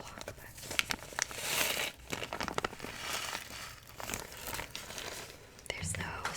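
A small plastic bag holding makeup items crinkles close up in a quiet room. Bursts of crackling come and go with short pauses, and a soft voice murmurs beneath them.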